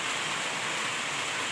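Steady rain pours down outdoors in a dense, even hiss that holds at the same level throughout, with no voices.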